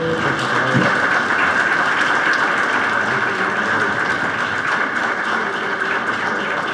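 Loud, sustained applause at a formal solemn session as a gift is presented, a thick continuous wash of clapping that holds steady from start to finish.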